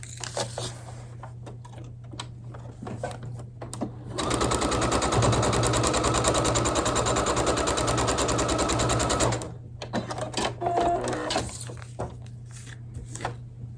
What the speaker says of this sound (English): Turn it over and we're going to sew on this line between 2 and 3.